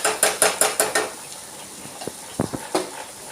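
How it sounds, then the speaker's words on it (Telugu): Potato pieces tossed in a pan with coriander powder, salt and chili, a spoon scraping and clinking rhythmically against the pan five or six times, then slower, scattered knocks. "ఇంకా ముక్కకు బాగా ఉప్పు కారం అన్నీ పట్టేలాగా బాగా కలుపుకోవాలి"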